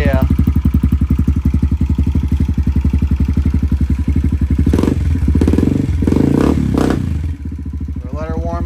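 A Kawasaki KLX140L dirt bike, fitted with a modified intake manifold and a 22mm Mikuni carburetor, idles steadily while warming up, its close, loud, even thump broken by a few brief throttle blips and some clattering.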